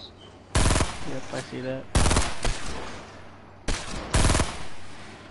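Sniper gunfire in the Fortnite video game rings out in loud, sharp shots, several heavy cracks spread over a few seconds with fading tails, while players talk over the action.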